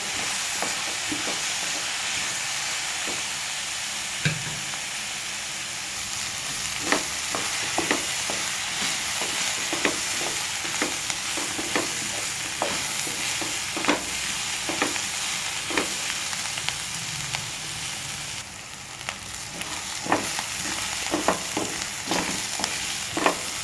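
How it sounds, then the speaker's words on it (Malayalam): Onions frying in a pan for a drumstick-leaf dish, a continuous close sizzle broken by regular scraping clicks as they are stirred, with no voices. "നമ്മുടെ ഉള്ളിയൊക്കെ ഒരുവിധം നന്നായി മൂത്ത് വന്നിട്ടുണ്ട്"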